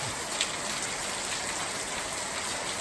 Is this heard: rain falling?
yes